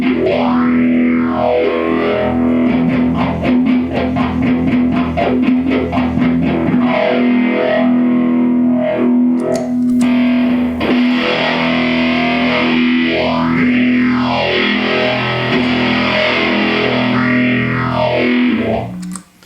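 Distorted electric guitar run through a Mobius modulation pedal placed after the distortion, with a sweeping, swirling phaser-like wobble rising and falling over a sustained note and strummed chords; loud, continuous and close throughout, no talking.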